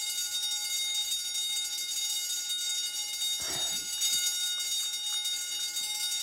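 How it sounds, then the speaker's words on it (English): An indoor alarm rings continuously in a steady, loud, high-pitched electronic tone that persists throughout, with a short muffled thump or clatter partway through. "is there any way to turn this alarm off?"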